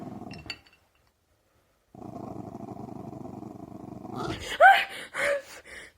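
A Jack Russell terrier growls low and steadily while tugging a pillow, following a brief opening sound and a short silence, then breaks into louder, sharper snarls near the end.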